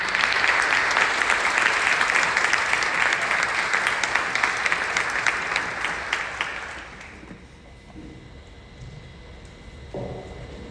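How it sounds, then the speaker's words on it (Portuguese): Audience applause at a BNI business networking guest-day event, sustained and full for about seven seconds, then fading quickly into room quiet with faint scattered sounds. "Vamos aplaudir Jana Mestre."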